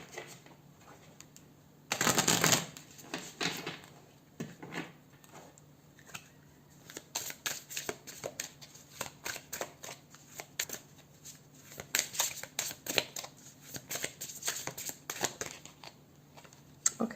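Tarot cards shuffled by hand in a quiet room on a farm, a continuous patter of soft riffling and flicking slaps that runs steadily throughout, with a louder burst near the start.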